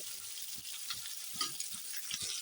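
Rohu fish pieces frying in oil, a soft, continuous sizzle with faint crackles and light knocks of turning, fairly quiet throughout.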